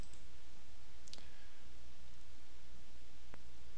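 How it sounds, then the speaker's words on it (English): A quick computer mouse double click, two small close clicks near the middle, followed later by a faint single tick over a steady background hum. "Now when I double click on this dialog"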